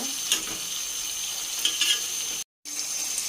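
Pieces of roast frying in a pan at home, a steady moderate sizzle with a few light stirring scrapes and a brief dropout near the end.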